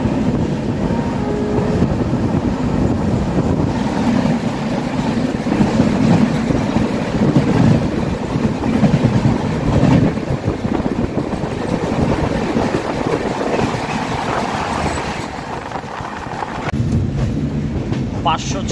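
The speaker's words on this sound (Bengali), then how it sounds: "ট্রেন এখন ঢুকছে নিউ বঙ্গাইগাঁও জংশন রেলওয়ে স্টেশনে" The Tinsukia-Tambaram Express rolls along the tracks with a continuous loud rumble and clatter mixed with wind noise, steady throughout with small shifts in intensity.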